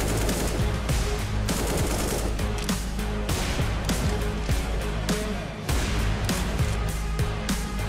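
Rapid AK rifle fire in a professional Counter-Strike match, dense loud bursts of automatic shots running almost without pause, with a brief drop near the middle.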